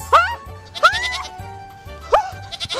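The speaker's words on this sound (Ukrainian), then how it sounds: "Кози мене люблять." A goat in a farmyard on a Carpathian mountain pasture bleats three times in short, loud, wavering cries close by, with a low hum underneath.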